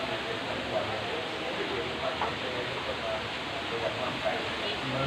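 A small waterfall at a cave temple gives a steady, even rush of falling water at moderate distance, with someone talking over it.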